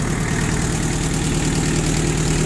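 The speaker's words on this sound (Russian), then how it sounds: "Двигатель, я думаю, слышно, что работает достаточно ровно." Mitsubishi MT2201D Japanese tractor engine idling close by, a steady, even low throb with constant mechanical vibration and no voices.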